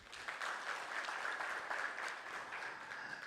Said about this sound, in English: So let's clap for the PSs, please.